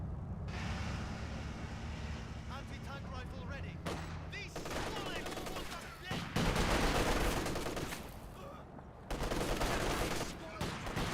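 MG34 machine gun fire and other gunfire in the video game Company of Heroes 2, with dense loud rattling bursts and explosions layered over a continuous battle rumble, and a caster talking over it.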